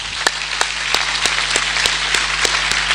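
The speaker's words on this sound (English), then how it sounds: "Can we give a round of applause?" Crowd applause at a graduation ceremony fills the hall. Dense, even clapping holds at a strong, sustained level, with faint regular ticking beneath it.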